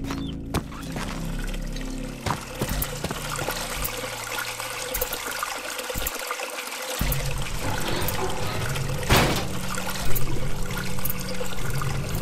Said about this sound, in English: Oh, it's the bloody shower, isn't it?